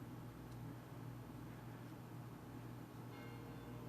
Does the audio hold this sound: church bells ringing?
yes